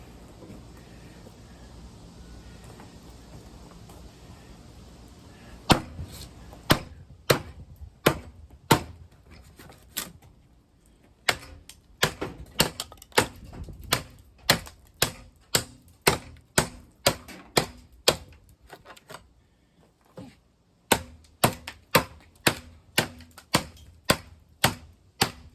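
A large Work Tuff Gear Kodiak knife chops into a 4x4 wooden post, with about two dozen sharp, loud thwacks coming in steady bursts and short pauses between them.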